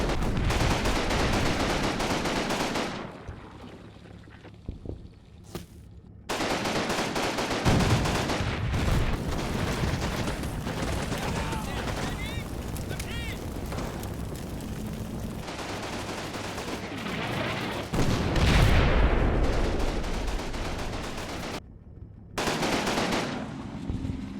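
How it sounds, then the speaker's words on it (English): Artillery and machine-gun fire from the wartime strategy game Combat Mission Final Blitzkrieg roll out as loud bursts and rattling volleys, with booming impacts and short quiet gaps between the barrages. "While the artillery comes in, we're just going to keep leveling buildings."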